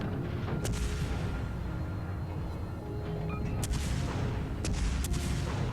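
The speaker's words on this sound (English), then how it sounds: "So I'm pounding into this battleship, doing some good damage" A Russian Bogatyr cruiser fires its guns at a battleship in World of Warships. Several sharp, booming salvos land at irregular intervals over a constant low rumble.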